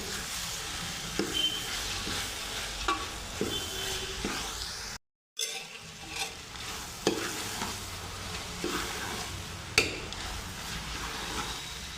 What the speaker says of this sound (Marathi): आता ही मटकी ह्या फोडणीमध्ये छान अशी भाजून घ्यायची आहे